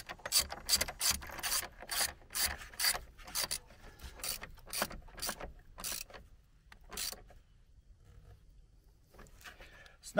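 A ratchet tightens the battery hold-down bolt on a Hyundai Sonata, giving quick runs of sharp, close clicks in a steady back-and-forth rhythm that slow to a few strokes and then stop.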